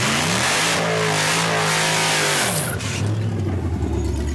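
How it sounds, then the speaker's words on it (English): An 800-horsepower race car engine revving loudly and close up, pitch climbing and holding for a couple of seconds, then dropping sharply into a lower, rougher idle-like rumble, with no speech. "My race car makes 800 horsepower"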